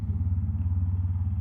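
A motorcycle engine runs at a steady, low, pulsing idle close by, loud and even throughout, with no voices over it.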